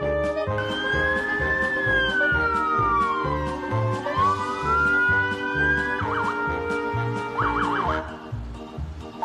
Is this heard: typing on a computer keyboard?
no